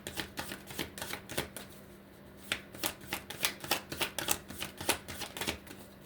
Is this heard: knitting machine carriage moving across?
no